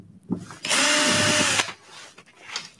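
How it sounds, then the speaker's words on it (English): A 20-watt cordless drill whirs in a single steady burst of about one second, close and loud, with brief quiet handling noises before and after. "Our 20-watt cordless drill."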